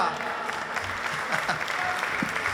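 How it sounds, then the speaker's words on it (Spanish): An audience at an awards ceremony claps after an accordion performance, a steady wash of applause lasting a couple of seconds at moderate distance, with a voice faintly heard beneath it. "Aplauso."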